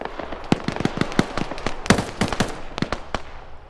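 Video game gunfire during a VIP rescue mission: rapid, irregular sharp shots crack one after another, some loud and near, others fainter, with no talk over them.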